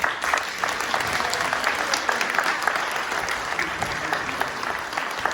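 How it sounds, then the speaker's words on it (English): Steady applause fills a room during a mental health and suicide awareness performance, the crowd clapping continuously at an even level throughout. "We'll give her a round of applause."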